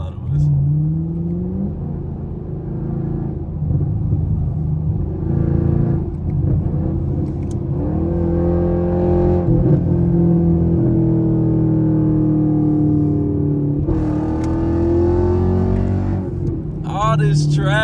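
Steady engine rumble of a car in traffic, with a Dodge Challenger Hellcat Redeye pulling away ahead and a rising, drawn-out revving tone in the middle, while people talk throughout.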